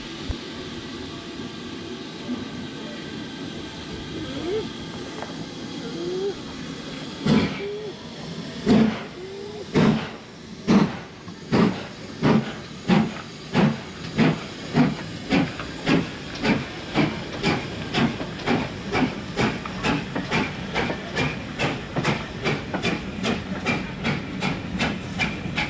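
Steam locomotive number 6880 pulls away from a station on a heritage railway, its exhaust chuffs starting slow and sharp, then quickening into a steady, rapid beat over a constant hiss of steam.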